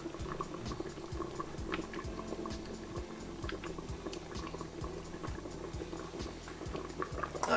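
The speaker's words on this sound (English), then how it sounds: "Let's make it boil now" A pot of mixed vegetable soup at a rolling boil, quiet bubbling and popping in a steady rapid rhythm with small splashy blips, close and alone.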